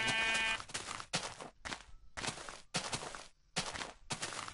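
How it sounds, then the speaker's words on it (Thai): Several sheep bleat in the Minecraft video game, a string of short loud calls in quick succession with brief gaps between them, heard up close and alone. "เฮ้ยเจอแกะ"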